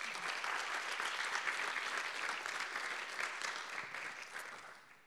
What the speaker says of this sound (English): How about a round of applause for our friends?